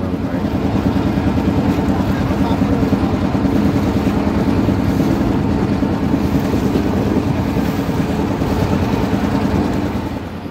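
Trawler boat cruising along a canal in the Sundarbans, its engine droning steadily and loudly with wind rushing past the microphone, fading slightly at the end.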